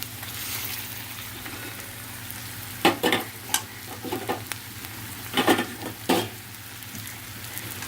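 Potatoes for a spiced potato fry are stirred in a hot pan, giving a steady sizzle of frying oil with several louder scraping stirs near the middle and end.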